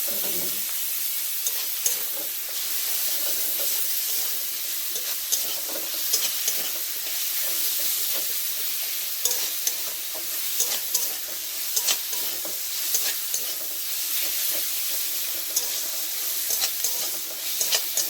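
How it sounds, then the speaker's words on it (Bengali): Onion with garlic paste and green chilli paste sizzles and crackles in hot oil while being stir-fried, a continuous frying hiss broken by repeated scraping and stirring knocks from a spatula, with no talking. "এগুলো দিয়ে একটু ভালো করে নেড়ে নেড়ে ভেজে নিতে হবে।"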